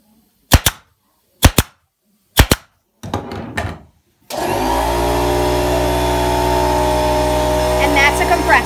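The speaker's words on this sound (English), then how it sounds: "And that's a compressor." An air compressor in an upholstery workroom, where a caned headboard is being covered, kicks on after three sharp staple-gun shots and a brief rustle, then runs as a loud, steady, close droning hum to the end.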